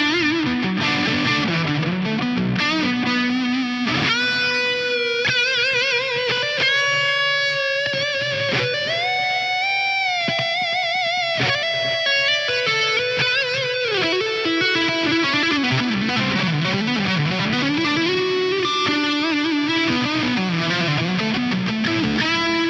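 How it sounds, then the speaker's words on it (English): Electric guitar played through a Hot Cake overdrive model on an Axe-Fx III, sustained distorted notes and bends, loud and continuous, with no talking. "I'm going to bring in the Hotcake at my favorite settings"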